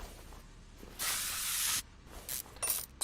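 WD-40 sprayed on a Toyota AE86 Corolla in Car Mechanic Simulator 2021, one long hissing burst followed by several shorter spurts.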